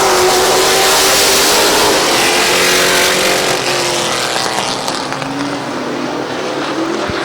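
Late model race cars roar off at the start of an eight-lap heat race at Midvale Speedway, a loud close pack of engines revving and passing, slowly fading toward the end.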